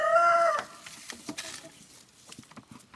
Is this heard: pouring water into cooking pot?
no